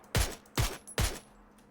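Three sharp gunshot bursts from the video game PUBG ring out in quick succession, evenly spaced, each with a short echoing tail, with no talking.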